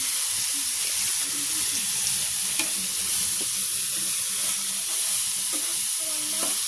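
Spices with cumin powder being stirred and fried in a pan in a village kitchen, a dense continuous hiss of frying with occasional soft scrapes of a spatula, close and steady, no voices.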